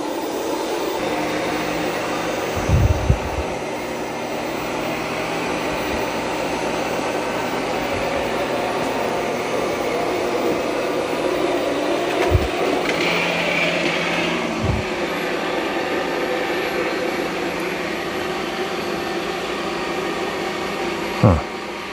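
An Ecovacs Deebot T20 Omni robot vacuum hums steadily with a constant motor whir, punctuated by a few sharp knocks and bumps as it moves around.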